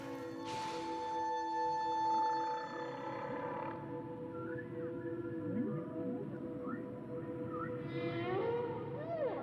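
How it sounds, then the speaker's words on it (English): Whale mating songs travel through the ocean as long, sliding tonal moans and rising whistles, some sustained and others sweeping up and down, with no voices present. "whales' mating songs are being heard from Canada to the Caribbean"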